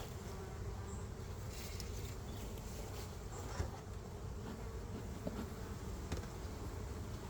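Bees buzz steadily around a new apiary in hot, humid weather near a flowering Rose of Sharon shrub, a dense, continuous hum close by with a few brief louder passes.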